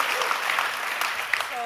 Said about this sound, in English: Yeah, you're allowed to clap.